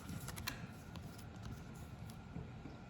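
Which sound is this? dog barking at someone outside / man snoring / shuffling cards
shuffling cards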